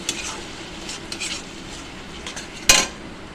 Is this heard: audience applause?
no